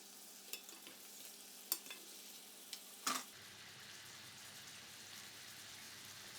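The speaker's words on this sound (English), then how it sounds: "now the water will evaporate and start frying" Emulsified butter and water in a pan as the water cooks off and starts to fry, a quiet steady sizzle with a few sharp clicks and taps of a utensil.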